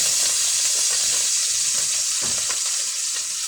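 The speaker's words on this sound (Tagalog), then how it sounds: "Maggisa na tayo ng ating luya" Ginger sautéing in hot oil for a native chicken tinola, a loud, steady hissing sizzle close up with occasional stirring scrapes and no talking.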